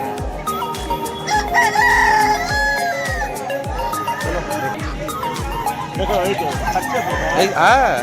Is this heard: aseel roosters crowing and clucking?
yes